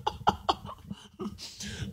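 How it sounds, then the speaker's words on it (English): Three sharp coughs in quick succession, close and fairly loud, followed by a raspy breath and throat sounds. "I'm struggling with the cough here"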